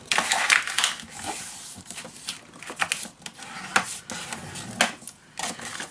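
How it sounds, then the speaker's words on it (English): Paper being scored and folded for a scrapbook pocket page, heard as a run of close, crisp scratching strokes and creasing crackles in irregular bursts. "I'm just going to score 1/2 inch. And fold it around."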